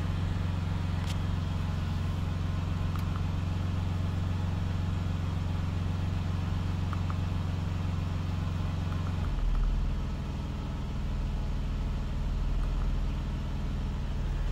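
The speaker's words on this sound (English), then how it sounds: "there's the engine back together and running again." A 2013 Ram 1500 4x4 pickup with the 3.6 engine idling right after a timing chain replacement, a steady close hum and rumble running throughout, its tone dropping slightly partway through, with no voices.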